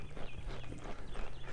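A ridden mustang's hooves clip-clop in a steady rhythm on the ground during a training session, close and moderately loud, with no talking.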